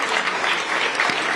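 Dense audience applause at a U.S. embassy opening ceremony in Israel, a steady crowd of many hands clapping at moderate loudness throughout.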